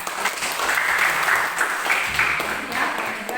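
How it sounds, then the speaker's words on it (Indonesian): Classroom applause from a group of students, a steady dense patter of many hands clapping for about three seconds, fairly close and filling the room. "Tepuk tangan semua."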